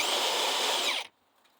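A DeWalt DCF961 cordless impact wrench runs at a steady, loud, high-pitched whine for about a second, then cuts off abruptly and winds down into near silence.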